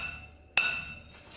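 A hammer strikes the bevels of a hot machete blade being forged, one sharp ringing metallic blow that decays into a brief clear ring, close and alone against quiet.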